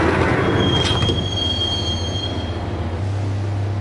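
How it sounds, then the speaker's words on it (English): A subway train in the video game Max Payne rides along with a loud, steady rumble while its wheels give a long, thin metallic squeal, close and continuous with no voices. "the train doors had already shut behind me, and I was in for the ride"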